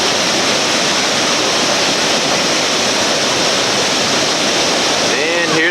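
Whitewater rapids on a West Virginia river roar steadily over rocks, a dense, loud, unbroken rush of pouring water close by from start to finish.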